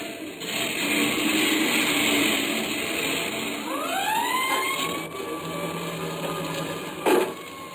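A police siren sound effect in an old radio detective drama wails through a rising and falling sweep over a hissy background, with a brief knock near the end.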